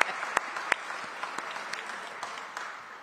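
A small audience claps for a city councilmember at an outdoor press event, fairly faint scattered applause with a few sharper individual claps standing out, fading slightly toward the end.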